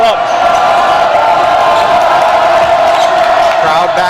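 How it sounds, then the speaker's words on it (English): A crowd at a boys' high school basketball game against Archbold keeps up a steady roar of cheering for the whole stretch, with a commentator talking over it. "Crowd back into it."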